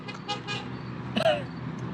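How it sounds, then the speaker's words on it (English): A car horn gives a short, faint toot at a distance over low, steady outdoor traffic rumble. "There went my sister Becky again, honking away."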